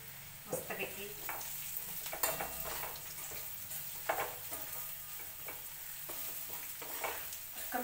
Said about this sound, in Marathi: कमी गॅस ठेवून आता खरपूस अशी आता तेल सुटेपर्यंत चांगले आता भाजून घेते आता.